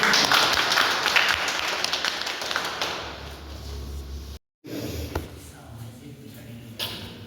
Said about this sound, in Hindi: तालियां जबरदस्त